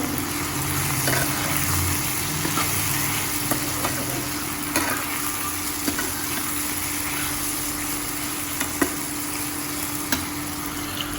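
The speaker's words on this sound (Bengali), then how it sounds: "আলু ঢেঁড়সটা কেটে নিয়ে ভেজে নিচ্ছি, দেখো।" Potato and okra frying in a pan, a steady close hiss and sizzle running without a break, with faint clicks of stirring now and then.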